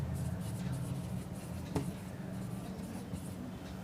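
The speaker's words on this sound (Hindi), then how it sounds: "चलिए नीचे लिख देते हैं हम" Faint, steady scratching of writing on a board during a maths lesson, with one sharper tap midway, low and distant in a quiet room.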